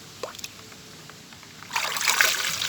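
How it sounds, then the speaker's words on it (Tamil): Water is poured from above onto a person, a sudden rushing splash that starts after a quiet moment and keeps going loudly to the end. "யாரா தண்ணி ஊற்றுனது?"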